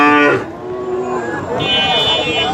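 Cattle at a livestock market (haat) in Bogura, Bangladesh, loud close moo in the opening half-second, followed by a busy crowd murmur and faint further animal calls in the background.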